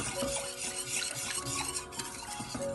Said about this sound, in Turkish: Karıştıra karıştıra kaynatmasını bekliyoruz.